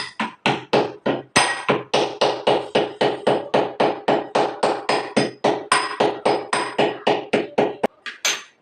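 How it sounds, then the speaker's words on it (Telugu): Roasted ajwain seeds are pounded in a small stone mortar: about two dozen sharp, hard knocks land in a quick, even rhythm, loud and close, with a brief pause near the end. "ఇట్లాగా కొంచెం మెత్తగా అయితే దంచుకున్నాను"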